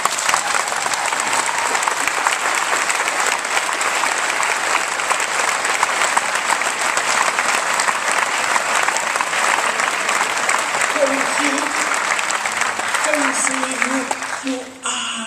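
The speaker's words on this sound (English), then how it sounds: "we should clap him as we clap the people of Norway for that incredible response" Loud, sustained applause from a large ceremony audience fills the hall without a break, then tapers off near the end.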